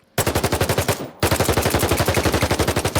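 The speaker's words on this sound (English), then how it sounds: "M4 may sound actually a bit more like the classic M4." An M4 rifle in a video game firing rapid full-auto bursts, a short burst followed by a brief pause and then a longer sustained burst, with sharp, evenly spaced, loud and close shots.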